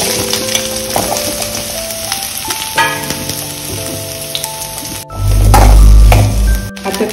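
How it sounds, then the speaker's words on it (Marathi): Onion and coconut roast in oil in a pan for Goan chicken xacuti, a close frying sizzle with stirring clatter, sustained tonal hums and a loud rumbling burst near the end. "कांदो आनी कातली भाजून घेऊया।"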